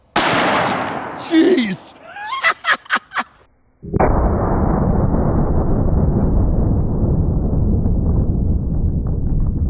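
A hand cannon fires a 700 grain hard cast round at a zombie torso target: one loud, booming shot right at the start. A startled shout follows, and a long stretch of steady loud rushing noise comes after it.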